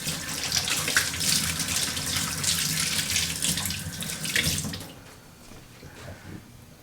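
Tap water runs steadily into a sink as tomatoes are rinsed beneath it, a close, continuous splashing rush that cuts off near the end, leaving quieter dripping.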